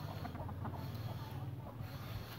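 Chickens and a rooster cluck softly on a provincial farm, with short repeated clucks sitting over a steady low background hum, moderately near.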